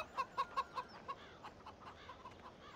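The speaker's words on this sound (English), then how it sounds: "Rooster." A rooster in a farming video game on PC gives five quick, evenly spaced clucking calls, then softer scattered clucks fade out; fairly quiet, with no speech.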